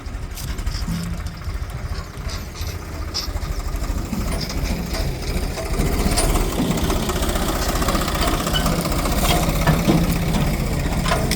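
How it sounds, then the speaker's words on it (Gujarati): A tractor engine runs steadily by a roadside while garbage is dumped, a loud continuous mid-range rumble that swells slightly partway through, with no voices over it. "એ ટ્રેક્ટર રોડની સાઈડમાં કચરો હલવી રહ્યું છે"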